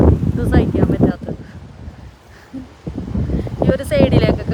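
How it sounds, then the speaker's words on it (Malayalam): Cold wind blows outdoors in a snowy place, rumbling and buffeting steadily across the microphone while a person talks close by. "ഈ കാറ്റ് വന്നോണ്ടിട്ടാണ് ഇത് സഹിക്കാൻ പറ്റാത്തത്."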